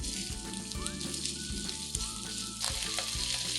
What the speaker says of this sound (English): Heat the olive oil in a frying pan over medium heat and sauté the sausages.